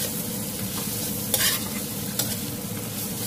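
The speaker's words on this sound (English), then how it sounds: "this is sizzling right now, so we're going to add 1 tablespoon of ketchup." Chilli paneer sizzling steadily in a hot pan, a continuous close crackle and hiss with a couple of brief louder clinks of stirring, no talk.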